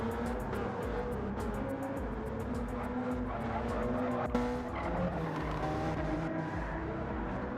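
Race car tires squeal as it snaps into oversteer during a sim-racing endurance event at the Nürburgring, a sustained shriek over a roaring engine, loud and close throughout, with no speech.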